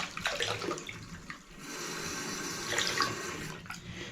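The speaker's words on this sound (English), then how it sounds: "What I'll do now, I've got the water on, is fill the bath up" Water runs from a tap into a newly fitted bath during a budget bathroom upgrade, a continuous hissing flow with a few brief splashy bursts, fairly quiet, with no voices.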